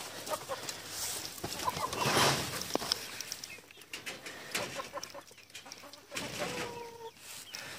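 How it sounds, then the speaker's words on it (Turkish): Chickens and chicks cluck and cheep close by at a small farm where geese and hens are kept, with overlapping clucks, high peeps and some rustling and wing flaps throughout. "Civcivlerim bunlar."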